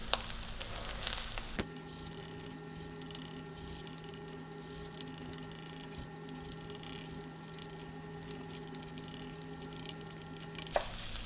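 An egg frying in a pan, a steady close sizzle with faint crackles and pops that runs for several seconds, no one talking over it.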